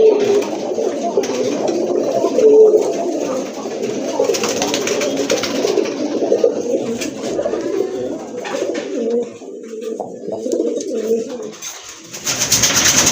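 Pigeons kept for sale at a breeder's collection coo in soft, repeated low throaty calls, several birds overlapping nearby, with faint rustling and background noise.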